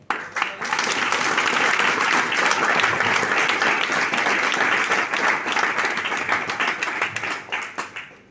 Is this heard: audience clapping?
yes